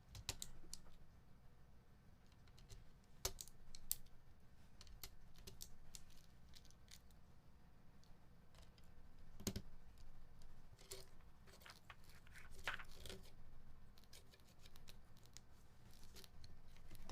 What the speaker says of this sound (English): I'm just punching switches in